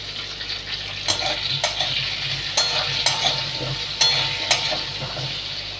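Cut potatoes with salt and turmeric frying in a pan, a constant sizzle broken by regular sharp spatula scrapes and taps against the metal, close by with no voices.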